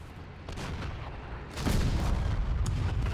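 An anti-tank weapon fires at a tank amid a Call to Arms battle, a deep boom rising at mid-clip over constant low rumble of distant artillery and gunfire, with sharp cracks scattered through.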